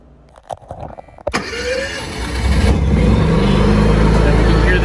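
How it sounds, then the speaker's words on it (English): Honda EU7000iS inverter generator cranking and catching, with a few sharp clicks and brief starter whirs before the engine fires and settles into a steady, loud running drone, with a voice speaking in the background. "we can hear the generator has started by creating a contact"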